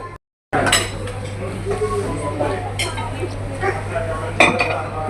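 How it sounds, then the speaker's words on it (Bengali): Utensils clink and scrape against plates and a serving dish as dal is served at a lunch of rice, mashed bhorta and dal, with light dish clatter under steady nearby talk. "আমি এখন একটু ডাল নিব।"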